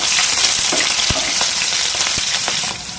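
Cumin seeds and slit green chillies fry in hot coconut oil, a close, steady sizzle with faint stirring scrapes running throughout.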